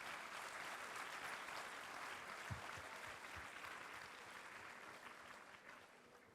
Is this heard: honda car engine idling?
no